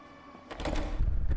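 A heavy locked door in a horror game gives an ominous rattling clunk as it is tried, a short mechanical shudder swelling into a low, rumbling thud that stays shut.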